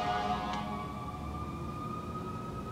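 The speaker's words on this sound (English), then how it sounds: "the sirens are going crazy" Emergency vehicle sirens wail faintly outside, a steady distant tone heard from indoors near a hospital and fire station.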